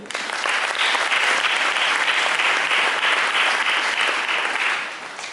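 A church congregation breaks into loud, sustained applause, a dense wash of clapping that holds steady for several seconds before easing slightly at the end.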